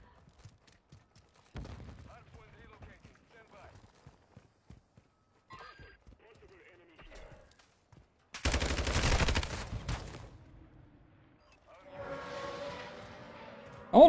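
Gunfire in a video game, with an M16 assault rifle among the weapons: a dense burst of rapid shots in the middle, then a softer, rougher spell of noise, set among quiet gaps and light clicks.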